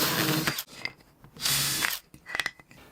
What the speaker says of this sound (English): Pre-drill the hole that the screws are going to go through.